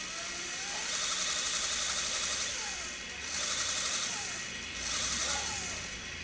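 Furitek Slidetech Pro ESC driving an RC drift car motor against its RPM limiter, giving a high, buzzy electric whine that surges in three repeated bursts, bouncing between two speeds, close and fairly loud with no talk.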